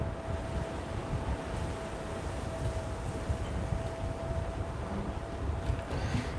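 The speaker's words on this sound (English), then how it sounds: "It got really windy." Strong wind roars steadily against the microphone, a constant rushing buffet with no voices.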